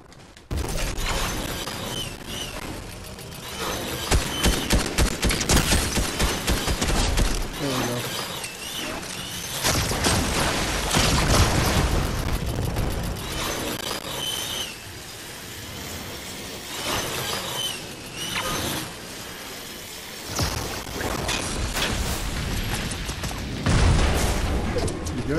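Gunfire in a shooter video game, repeated bursts of shots and impacts through a long loud stretch of busy combat, with a player talking over it.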